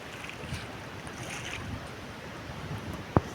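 Someone wading through a stream, water swishing and lapping softly around their steps in a steady low wash, with a single sharp knock near the end.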